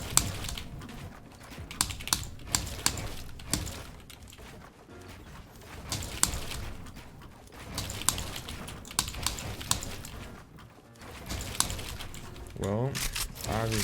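Computer keyboard keys pressed at a gaming setup with keyboard and mouse, a steady close clatter of keystrokes with sharper accented presses, under a person talking.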